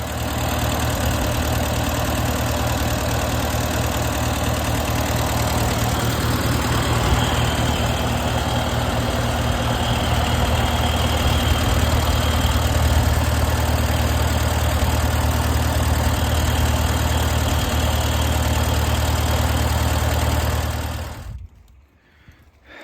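A 1954 Case SC tractor engine idles steadily after a cold start in frozen conditions, a loud, even low rumble with constant vibration that runs unbroken for about twenty seconds before cutting off abruptly near the end.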